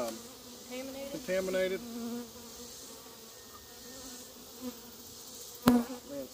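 Honey bees buzz steadily around a hive being treated with powdered sugar, a close, continuous insect drone with a few louder passes and a sharp knock near the end, plus a brief spoken word.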